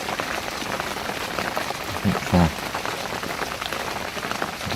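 Heavy rain falls steadily on a fishing lake, a dense, even patter that fills the whole stretch, with a brief low voice speaking over it midway.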